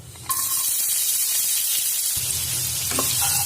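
Chopped onions hit hot oil with cumin seeds and hing, producing a sudden loud sizzle that hisses on steadily, with a brief clink of a utensil near the end.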